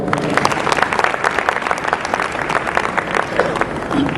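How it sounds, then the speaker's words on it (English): A community event crowd gives a round of applause to sponsors and organizers, loud steady clapping close by with a few cheers mixed in, lasting throughout. "Give all those guys a round of applause."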